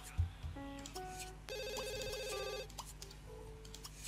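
A telephone rings in The Sims 2 game, bursts of electronic trilling tones repeating over a quiet background with faint game sounds.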